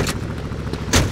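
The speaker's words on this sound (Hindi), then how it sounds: "बिल्कुल जोरदार धमाका हुआ" Heavy booming video game explosions in GTA Vice City Stories burst out against a constant loud roar, with one sharp burst at the start and a bigger one near the end.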